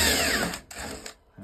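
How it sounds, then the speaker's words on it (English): Power drill boring a 20mm hole in a wall, a brief loud whirring grind that dips and surges twice before stopping. "20mm hole in your drill."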